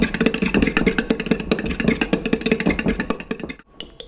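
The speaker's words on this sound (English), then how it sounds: "then blend those eggs together" Four eggs are blended together in a separate bowl, making rapid, steady clattering strokes close up that keep an even rhythm and stop just before the end.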